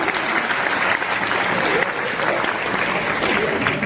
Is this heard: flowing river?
no